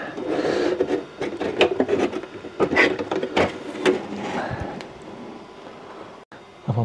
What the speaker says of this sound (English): it's time to take the cover off